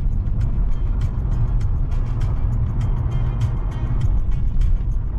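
A car driving along the frozen Lena river near the Lena Pillars outside Yakutsk, heard from inside as a steady low engine and road rumble with light rattles, continuous and fairly loud, with no talking.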